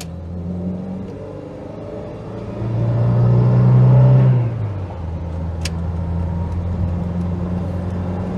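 A Renault Espace drives on the road with a steady cabin engine drone that swells into a louder rumbling acceleration while overtaking, then eases back to an even cruising hum.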